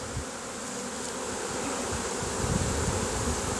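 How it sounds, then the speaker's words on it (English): A swarm of honey bees fanning at a box gives a dense, continuous buzzing hum, close and steady throughout, with no voices. "Some of these bees are real orange yellow looking."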